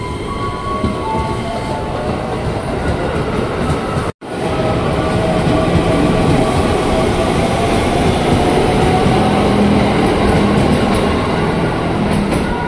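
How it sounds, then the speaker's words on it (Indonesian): An eight-car KRL commuter train bound for Manggarai rolls past the low platform at Tebet station, a loud, close, continuous rumble of wheels and carriages with a brief dropout partway through. "Komuter tujuan Manggarai, rangkaiannya 8 kereta, JRIS 2549."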